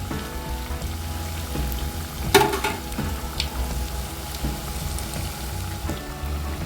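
Mysore bonda dumplings deep frying in hot oil, a steady close crackling sizzle with a few louder pops and spatters, no voices.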